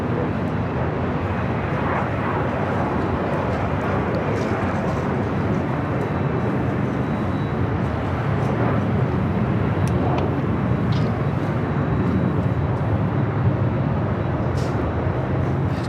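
A jet airliner roars steadily on departure from Los Angeles International Airport, a loud continuous engine rumble and whine that holds throughout without a break.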